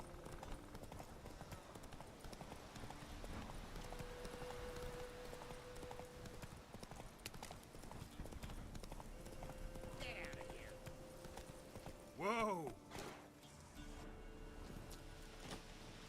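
Roach, a horse in the video game The Witcher 3, clip-clops steadily on her hooves beneath game music and ambience, with in-game voices briefly speaking over the walking.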